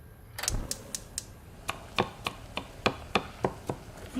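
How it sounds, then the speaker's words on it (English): Knife chopping food on a board in a restaurant kitchen, a run of about a dozen crisp, fairly evenly spaced chops at moderate distance, with faint room noise and no talk. "Look at Bobby chopping."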